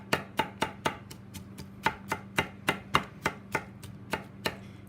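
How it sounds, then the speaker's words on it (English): A knife dices softer vegetables for a vegan tuna salad on a cutting board, about sixteen crisp, evenly spaced chops in a steady rhythm, close and alone with no talk. "So I'm just dicing these up."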